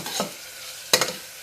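A spoon stirs spices and chilli powder into dal palak (lentils with spinach) in a pan, giving two short scraping bursts, one faint near the start and one louder near the end, over a soft steady sizzle with no talking.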